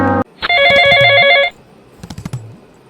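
A telephone in a doctor's clinic rings with one loud electronic burst lasting about a second, close and clear, after a brief clipped sound, followed by a few soft clicks and a short second chirp.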